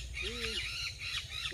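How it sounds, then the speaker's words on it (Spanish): A parrot squawks loudly in an outdoor ranch setting, a couple of harsh, rising calls over a low background hum, while a person talks nearby. "ahí está el perico. Trae un escándalo."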